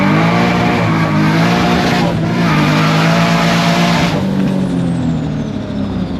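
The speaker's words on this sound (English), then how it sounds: "give a little sauce and you hear the external gate" A car with an external wastegate accelerates hard, producing a loud, close, continuous engine roar with a rising tone and a hissing edge that eases off near the end, with no talking.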